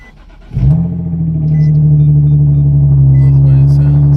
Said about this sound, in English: So, back into a cold start.